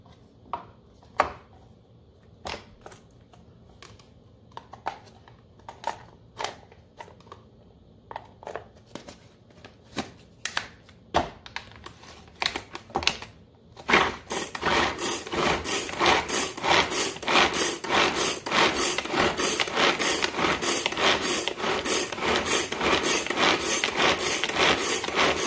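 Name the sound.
onion being ground up for Jamaican beef patties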